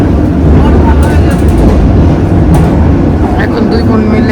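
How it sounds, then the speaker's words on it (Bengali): Steady low rumble of a train in motion carries throughout, a dense, even roar with faint rattles and clicks on top, heard from inside a carriage while two sisters travel together. "এখন দুই বোন মিলে ট্রেন জার্নি করছি"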